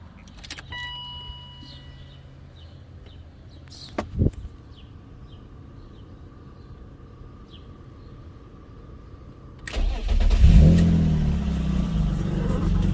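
Keys jingle briefly, then after a quiet stretch a BMW E36 track car engine with a catless straight-piped race exhaust cranks and roars to life, revving up loudly and holding at a rumbling idle.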